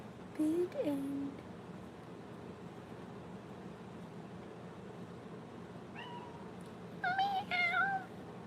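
A cat meows a few times indoors during a live antiques sale, with two short calls at the start and a louder run of meows near the end over quiet room noise.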